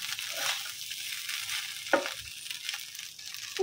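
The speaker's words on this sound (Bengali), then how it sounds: "ওতে যে বিরিয়ানিটা রান্না করছি" Biryani cooking in a pan makes a steady close hiss and sizzle, with a couple of soft stirring scrapes and clinks along the way.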